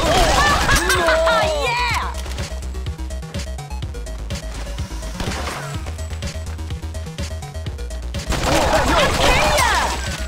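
Steady rhythmic gunfire from the video game Not a Hero, a fast run of punchy shots over a pounding music beat, with excited shouting voices and chaotic crashes bursting in at the start and end.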